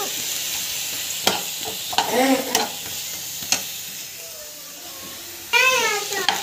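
Ginger garlic paste sautéing in a pan, a continuous sizzle broken by several sharp scrapes and stirring clatters of a spoon, with some voice-like sounds in the background.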